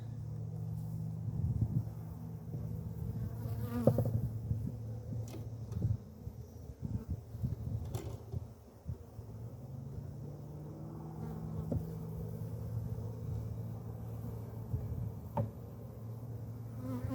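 A honey bee buzzes close around a beekeeper during a hive inspection, its whine swelling and fading as it circles near the microphone, with a low rumble underneath.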